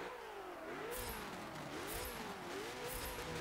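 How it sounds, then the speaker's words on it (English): A Lotus Elise race car in Forza Motorsport 7 lapping the Silverstone circuit, its engine revving up and down repeatedly through gear changes, loud and continuous with no talk. "So, British racing car, let's take it on a British racing track."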